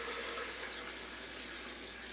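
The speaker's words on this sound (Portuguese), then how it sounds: "Pomos 1 litro de água." Water rushes steadily into a blender for a pumpkin soup, about a litre poured in one continuous, close, splashing stream with no talking.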